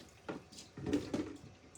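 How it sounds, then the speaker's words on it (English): Tap water runs into a sink in short uneven bursts, splashing and gurgling close by at a fairly low level, with brief quiet gaps between the flows and no talk. "let's put this away and get some water running on here."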